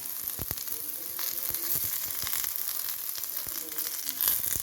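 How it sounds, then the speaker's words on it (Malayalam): Onions sauté in hot oil with mustard seeds for an okra stew, giving a steady close sizzle broken by scattered sharp pops and crackles, with no voices. "എന്നിട്ട് നമുക്ക് സവോള ഇട്ട് വടറ്റാം"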